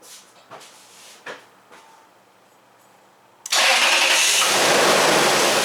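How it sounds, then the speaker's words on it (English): A 2005 Lexus RX 470 under diagnosis for fault codes P1445 and P1442 cranks and fires up, a few faint clicks and knocks giving way to a sudden loud, steady engine roar that holds to the end. "So let me start the truck,"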